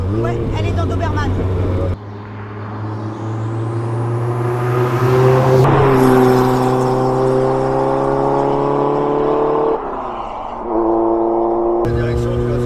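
A Renault 5 Turbo 2 car driving, its engine loud and close as it revs up through gears with rising whine and drops between shifts. Voices talk over the engine at times.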